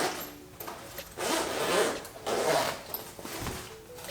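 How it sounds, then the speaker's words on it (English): Zipper on the soft-sided carrying case of a VIAIR 300P portable air compressor being pulled open in several short, close rasping strokes with brief pauses between them. "It's a zipper."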